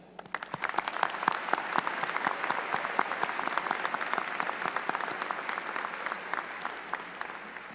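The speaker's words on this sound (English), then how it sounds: "Join me in giving a round of applause to the Lakewood faculty and staff" A crowd at the Lakewood High School 2025 graduation gives the faculty and staff a full, lively round of applause, many hands clapping crisply and steadily throughout.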